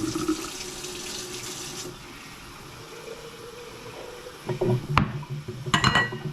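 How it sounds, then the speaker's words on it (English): Cranberry raspberry juice pours into a half-gallon glass mason jar in a steady liquid stream, nearby and moderately loud, then gives way to a few glassy clinks and splashes as the pour ends. "So I'm just going to pour the juice in."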